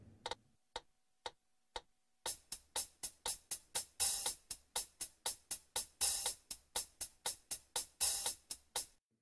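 Hi-hat pattern played on a Korg arranger keyboard: a few sparse ticks at first, then a steady, even run of crisp, clean hits, with some accented, brighter strokes at regular intervals and no voices.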